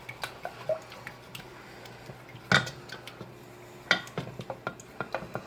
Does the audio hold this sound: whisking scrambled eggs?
yes